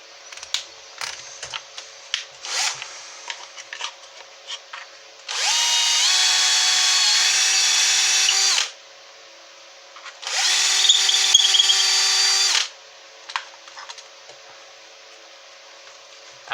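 A power drill fitted with bench grinder bits whines at a steady high pitch in two sustained runs of about three seconds each, with scattered clicks and handling taps around them.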